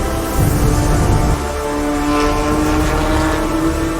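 A six-cylinder car engine roars steadily at high revs, its deep droning tone rising and holding without pause.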